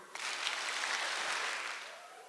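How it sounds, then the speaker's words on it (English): A high school audience at a guest speaker event claps rapidly in a dense, soft burst of applause that lasts about two seconds and then tapers off. "I want to see how fast you can clap, how quick you can stop."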